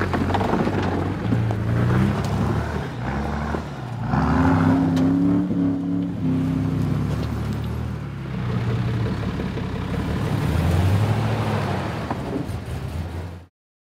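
A modified Nissan GQ Patrol four-wheel drive with new suspension, GU diffs, wheels and tyres drives off-road through the bush, its engine revving and surging in loud waves before cutting off abruptly at the end.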